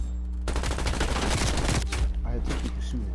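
Rapid automatic gunfire in Call of Duty Black Ops Cold War multiplayer, a tight fast-rattling burst lasting over a second, then a few scattered shots over a steady low hum.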